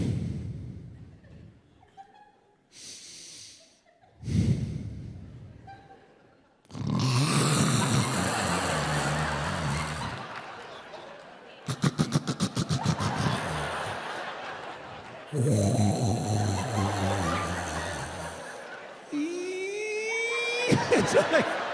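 A person imitates loud snoring in repeated rasping, snorting bursts, interspersed with laughter and short pauses, close and animated.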